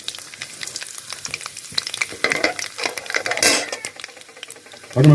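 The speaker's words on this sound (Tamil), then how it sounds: "கடுகு நல்லா பொரிக்கிட்டோம்." Mustard seeds with chana dal in hot oil pop and crackle as a dense spray of sharp, close snaps under a steady sizzle, with a louder clatter of stirring near the end.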